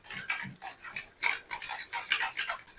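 A spoon stirs Kashmiri red chili powder into water in a bowl, quick rhythmic clinks and scraping strokes, close and fairly quiet with no talk.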